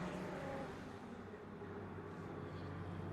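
A Lotus Elise race car slowing down on a circuit, its engine note a steady, fairly distant drone that holds without clear revving as the car eases off.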